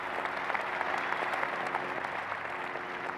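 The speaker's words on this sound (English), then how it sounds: "Warm applause for Stadler," Gallery applause at The Open golf championship at Royal Birkdale in 1983 for Craig Stadler on the green, a steady, warm patter of many hands clapping at a moderate distance, sustained throughout.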